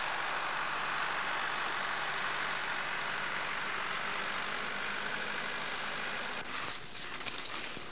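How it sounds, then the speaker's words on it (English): A modern John Deere tractor engine at a school runs with a steady low hum and hiss, continuous throughout, shifting to a rougher, changed tone near the end. "A modern John Deere tractor belongs to the school."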